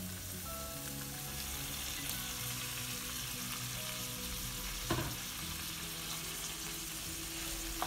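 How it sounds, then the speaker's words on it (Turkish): Steady, dense sizzling of chopped beet leaves and stalks frying in a pan, continuous and close, with a brief scrape of stirring partway through. "Karıştırarak 4-5 dakika bu şekilde kavuruyoruz."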